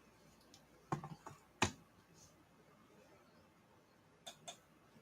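A few quiet keystrokes on a computer keyboard, clustered clicks near the start and a pair more later, faint against a hushed room.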